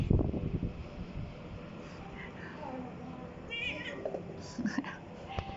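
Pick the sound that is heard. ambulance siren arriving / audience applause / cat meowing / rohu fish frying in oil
cat meowing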